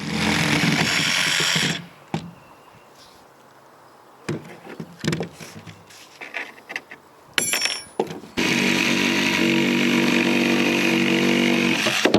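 A power saw trims excess glued-and-screwed plywood subflooring along a circular outline for a round room, sounding in a loud sustained burst, then a pause broken by scattered bumps and short bursts, then a long steady loud run.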